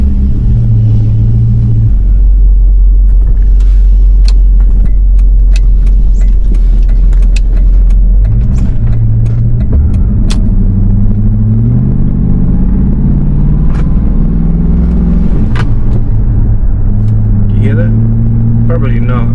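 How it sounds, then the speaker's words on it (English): A car drives with a steady low engine and road rumble, while sharp knocking and rattling clicks come irregularly from the rear underside throughout. "Hear that rattling? I wonder if it's a drive shaft."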